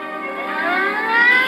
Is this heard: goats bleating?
no